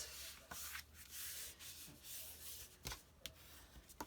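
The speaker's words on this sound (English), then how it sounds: "these flaps, you can go ahead and fold them down and give them a really good burnish" Paper flaps of a file folder pressed flat and burnished, giving a steady dry rubbing and scraping with a few sharper scuffs and taps, close up with no talk.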